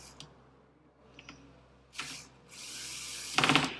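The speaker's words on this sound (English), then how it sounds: "Quickly with the drill here." A power drill driving a screw whirs in short bursts, then runs in a longer sustained spin, ending with a louder grinding rattle up close.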